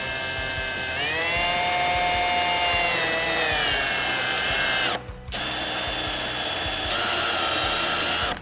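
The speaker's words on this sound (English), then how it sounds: "We're going to go ahead and drill the holes. We're going to be using a step bit today." A power drill fitted with a step bit bores holes in plastic panels on a Polaris General for a turn signal kit. The whine is loud, close and steady, shifts in pitch, and breaks off briefly midway.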